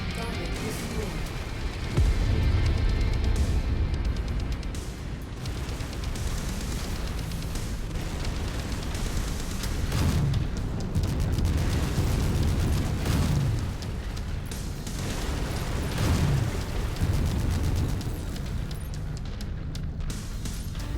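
Deep, rumbling explosions from destroyed targets in the MechWarrior 5: Mercenaries mech combat game roll on continuously for about twenty seconds, with several louder booming bursts rising out of a dense low-end wash.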